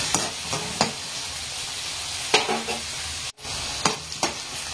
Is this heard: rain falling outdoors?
no